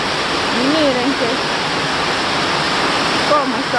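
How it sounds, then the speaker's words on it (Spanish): A steady, loud wash of heavy rain and wind during a hurricane in El Salvador roars throughout, with a voice speaking briefly at the start and again near the end. "qué fuerte está esta lluvia ahora"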